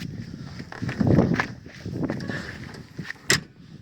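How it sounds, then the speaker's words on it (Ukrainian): The cab door of an MTZ tractor swings and shuts with a light, sharp clunk near the end, after some soft rustling and handling noises close by. "Бачите, двері легенько, клоц"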